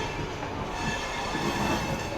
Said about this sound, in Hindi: स्टील एक्सप्रेस आ गई भाई।